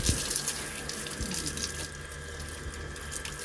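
Water rushes steadily over a split AC indoor unit as it is washed during a home service, a continuous close splashing flow lasting the whole few seconds.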